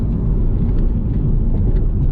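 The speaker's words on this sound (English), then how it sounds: "You're always going to hear a little bit of road noise for sure." Steady low road rumble fills the cabin of a 2008 Audi TT coupe on the move, with the windows up and the AC off. A loud, continuous drone without talk.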